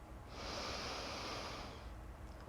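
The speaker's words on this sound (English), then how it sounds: "Good sniff in through the nostrils if you can." One long, breathy sniff drawn in through the nostrils, close and quiet, lasting about two seconds with no voice.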